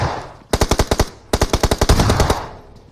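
Two rapid automatic bursts of gunfire in the mobile battle royale game PUBG Mobile (BGMI), each a crisp string of about six to eight shots, loud and close, separated by a brief pause.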